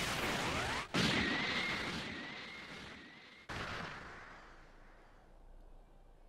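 A Special Beam Cannon attack in the Dragon Ball Sparking Zero video game bursts out as a loud blast with a ringing, whistling beam tone, cut by a second sharp impact before fading away.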